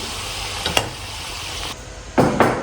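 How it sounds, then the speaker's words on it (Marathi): Batti fries in a pan with a soft steady sizzle and a few sharp stirring scrapes, with no talking. "आता मी जे बट्टी आहे फ्राय करायला घेतलेली आहे."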